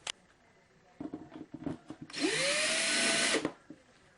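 Power drill with a 3/32 inch bit drilling pilot holes while building a keyboard pedal case, a few quiet handling knocks followed by one loud whirring burst of about a second and a half that winds down.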